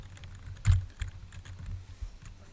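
Light keystrokes on a computer keyboard while entering Python code, a sparse, irregular run of soft clicks with one louder tap near the start, close and quiet with no talking.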